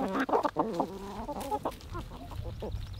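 A flock of eighteen hens clucks in a retirement coop on a farm, with close, busy clucking and calls through most of the stretch that fade into quieter murmurs near the end.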